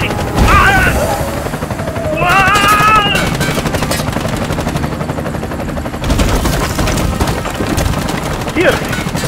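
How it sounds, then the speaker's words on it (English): Heavy gunfire in the shooter game Bright Memory Infinite: loud, dense bursts of rapid shots and impacts roll on without a break, with a voice briefly heard over the barrage. "I'm under heavy fire."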